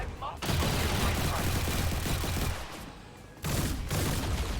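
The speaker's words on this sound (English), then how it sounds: "there's a lot of damn shooting going on" Dense gunfire from XCOM 2 combat, rapid overlapping shots forming a loud, continuous fusillade that briefly drops out near the middle before surging back, with a voice talking over it.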